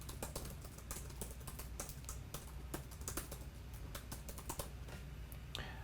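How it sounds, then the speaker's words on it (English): Rapid keystrokes clatter on a computer keyboard, a dense run of quick close clicks with no pauses, faint but clear and alone. "I'm going to click right here in this area and start typing."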